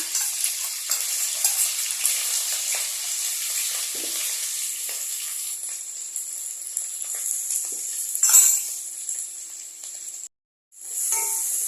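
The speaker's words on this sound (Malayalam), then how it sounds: "എണ്ണ ചൂടായി ഇഞ്ചി വെളുത്തുള്ളി പേസ്റ്റ് ഇട്ട് കൊടുക്കുവാണേ" Ginger garlic paste fries in hot oil with a loud, steady, close-up sizzling hiss and a few spoon scrapes. A burst flares near the end, followed by a brief cut to silence before the sizzle resumes.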